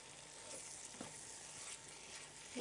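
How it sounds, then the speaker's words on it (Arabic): Mushrooms frying in a pan with chicken breast cubes, onion and spices for mushroom steak, giving a steady, soft hiss of sizzling oil with faint stirring clicks throughout. "وبعدين هننزل دلوقتي بالمشروم"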